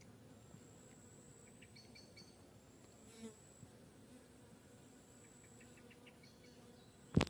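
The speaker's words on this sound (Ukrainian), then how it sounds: "Більше комарів ось появилось, кусають, літають тут скрізь." Mosquitoes whining and buzzing around a small fishing pond, a thin steady drone close by with faint birdsong in the background and a brief knock at the end.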